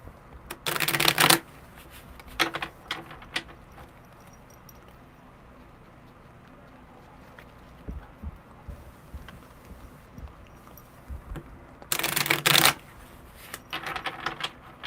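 Tarot cards shuffled in two quick bursts of crisp riffling flutter, close and fairly loud, separated by quieter handling, light taps and rustles.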